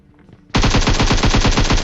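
A sudden, loud burst of rapid automatic gunfire erupts after a brief quiet moment in a shooter video game, with evenly spaced shots continuing without pause and no voices.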